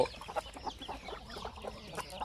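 Free-range chickens kept in a semi-confined, semi-free setup cluck in a scattered, steady stream of short calls at moderate distance, with no talk over them.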